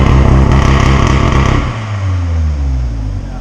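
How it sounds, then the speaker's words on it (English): An Audi S3 with a turbo resonator delete launches hard, its exhaust revving loudly up close before the engine note drops into a falling rumble as the car pulls away. "there's a lot more cracks because I heard you launch your car"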